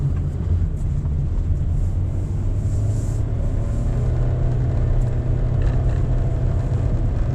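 A 2024 Honda Brio with a CVT accelerating in S mode, a steady, loud low engine drone and road rumble heard from inside the cabin, holding even throughout without any voices.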